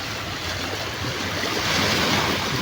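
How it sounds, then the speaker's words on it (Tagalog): Sea waves washing steadily along a shore near Tingloy during a fishing outing, a continuous broadband surf wash with light wind noise on the microphone, rising slightly toward the end, with no talking. "tahimik ng dagat. Medyo malakas kanina. Hmm, kumakalma na."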